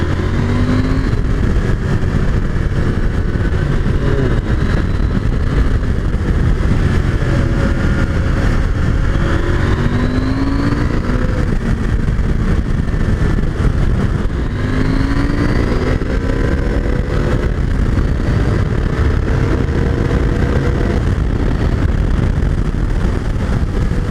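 A KTM 890 Adventure R motorcycle ridden hard, its engine loud and close, revving up through the gears with rising pitch sweeps and clear drops at each shift and downshift; wind rush runs underneath and no one talks.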